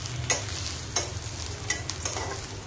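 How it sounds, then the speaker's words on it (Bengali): Food frying until reddish brown in a pan, a constant sizzle with four spaced, crisp scrapes of a stirring utensil, close and moderately quiet. "ভেজে নিলাম লাল লাল করে"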